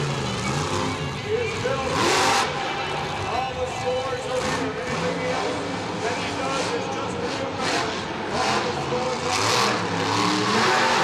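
A monster truck engine revs and roars in surges in a stadium arena as the truck tries to spin a donut, with a commentator talking over the din and crowd noise.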